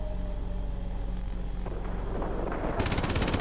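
Rear gunner's machine gun firing from an A-26B bomber in the World of Warplanes game over a constant engine drone, breaking into a rapid, loud burst of shots near the end.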